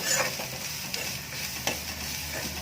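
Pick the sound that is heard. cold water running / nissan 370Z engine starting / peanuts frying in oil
peanuts frying in oil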